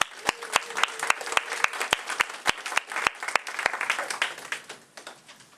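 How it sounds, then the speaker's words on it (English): A studio audience applauds the cast of an old CBS radio broadcast, with sharp, prominent hand claps up front over a broad wash of crowd clapping that gradually thins out toward the end. "Let's have a round of applause for the cast."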